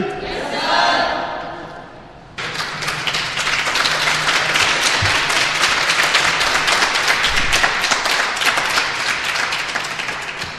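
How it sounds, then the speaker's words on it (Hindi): Eleventh- and twelfth-grade students, girls and boys, applaud in a school hall; a brief crowd cheer opens, then loud sustained clapping swells and continues steadily for several seconds. "जितना दम आपकी ताली में है"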